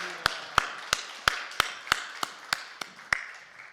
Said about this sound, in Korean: 우리 목사님 나오실 때 할렐루야로 하나님 앞에 영광의 박수 올려드립시다